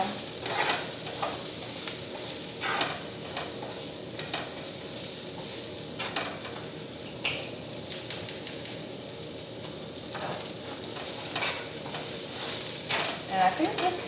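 Honey-glazed salmon fries in olive oil while being stirred, a steady close sizzle broken by repeated scraping and clinking stirring strokes, with no voices.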